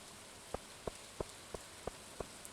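Rain falls in Stardew Valley as a steady, soft hiss, punctuated by light, evenly spaced ticks about three times a second, all quiet and with no voices.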